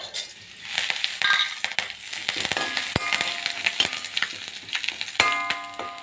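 Cumin, black pepper, curry leaves, chilli and ginger dry-roasting in a pan over low heat, with a steady crackling sizzle broken by sharp spatula clinks and scrapes, close up and with no talking.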